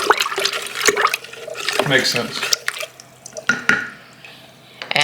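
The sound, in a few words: lemonade being poured and strained through a flour sack towel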